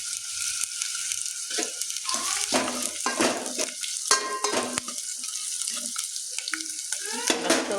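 Green chilies sizzle and crackle in a hot pan of oil while a ladle stirs and scrapes against the metal, producing intermittent clinks over the steady frying hiss.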